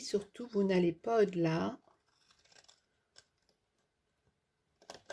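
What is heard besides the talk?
scissors cutting paper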